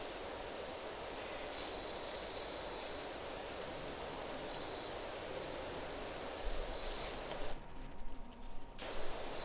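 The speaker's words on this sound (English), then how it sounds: "I love this auto spray." A pressure washer's auto spray in the PowerWash Simulator video game hisses continuously and loudly for the whole stretch, with a few brief louder surges toward the end.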